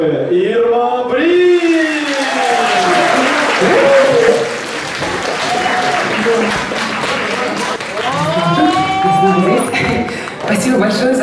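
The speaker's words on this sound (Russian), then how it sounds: "Спасибо большое за ваши аплодисменты" A TV talent-show studio audience applauds a singer with sustained, full clapping, while a voice speaks over the ovation near the start and again toward the end.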